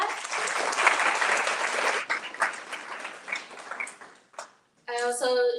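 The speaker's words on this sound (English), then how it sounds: "I wanna give you guys another round of applause for" Warm applause from the audience at a literary magazine launch event, full and sustained for two seconds, then tapering into scattered claps and silence before a voice resumes speaking.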